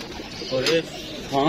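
Pigeons kept by a hobby fancier give a couple of short, close coos, with a faint voice in the background.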